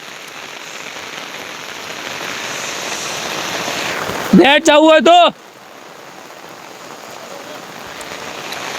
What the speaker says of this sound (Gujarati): તમે જોઈ શકો છો ફૂલ વરસાદ આવી ગયો છે.